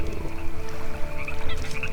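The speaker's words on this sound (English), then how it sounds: "Sounds like ducks." Ducks in the Wurm Unlimited video game quack in a dense, continuous chatter of short croaking calls, steady and fairly close throughout, with no speech.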